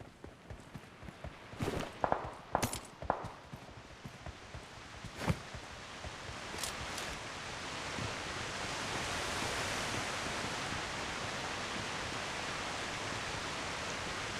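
A video game waterfall rushes as a steady, broad wash of falling water that swells and then holds constant, preceded by a few scattered clicks and thumps.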